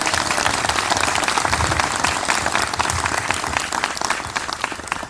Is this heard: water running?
no